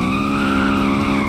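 A sports car at a big Southwest Florida car meet accelerates hard with tires squealing, a loud steady screech and engine roar held close for about a second.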